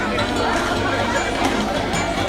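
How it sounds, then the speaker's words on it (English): Noisy restaurant din, a dense babble of many overlapping voices with clatter beneath, steady and crowded throughout. "A noisy restaurant is 80 decibels."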